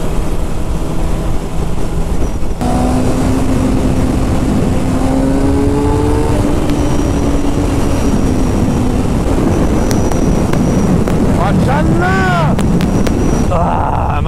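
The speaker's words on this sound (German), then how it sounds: "Bisschen windig ist noch." Strong wind buffets the helmet microphone on a motorcycle ride, a loud continuous roar throughout with engine tones shifting underneath and a brief gear-change dip near the start.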